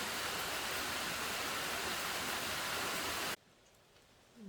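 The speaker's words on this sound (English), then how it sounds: "You can hear the rain out there." Steady, dense rain pours down outside a trail shelter on the Pinhoti Trail, a loud continuous wash of drops, then cuts abruptly to a much quieter near-silence with faint dripping near the end.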